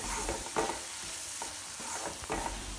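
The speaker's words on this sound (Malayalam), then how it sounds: "ഇനി നമ്മുടെ മസാലയുടെയൊക്കെ പച്ചമണം മാറുന്നത് വരെ ഇതുപോലെ ഇളക്കി കൊടുക്കുക" Masala for prawn cutlets, made with Kashmiri red chilli powder, is stirred as it fries in a pan. A steady close sizzle carries a few louder scraping strokes of the spoon, with no voices.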